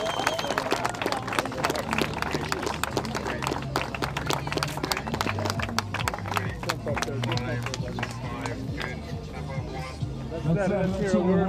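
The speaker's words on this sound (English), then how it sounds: "big round of applause for Verde Rodriguez" Crowd applause at the 2022 PWA windsurfing World Cup in Cabo Verde: a steady, dense wash of clapping from many people, held at an even level throughout, with sustained musical tones underneath.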